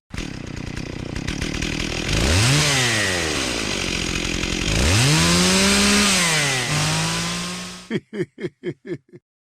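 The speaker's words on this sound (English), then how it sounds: "Nothing solidifies a hard-fought victory against the Locust than with a chainsaw" A chainsaw weapon from Gears of War revs loudly in repeated rising and falling sweeps, a harsh grinding roar that abruptly gives way to a rapid series of sharp sputtering bursts at the end.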